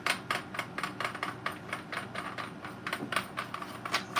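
A rifle charging handle part being screwed into place, a close rapid series of small metallic clicks and taps in an uneven rhythm, with no talk.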